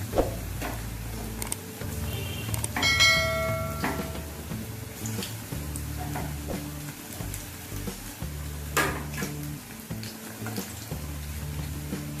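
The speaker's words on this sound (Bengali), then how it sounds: "তেলটা আমার ভালো মতো গরম হয়ে গেছে, এবার আমি পকোড়াগুলো ছেড়ে দেবো।" Mushroom pakoras are dropped into hot oil and fry, producing a steady bubbling sizzle up close with a few clinks and brief pauses, no talking.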